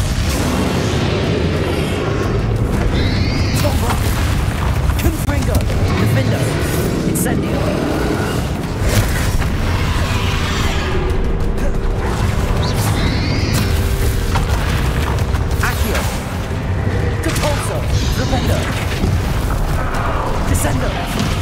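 Explosive Confringo spell blasts boom repeatedly through a Hogwarts Legacy final boss battle, loud and dense over constant combat noise, with voices speaking throughout.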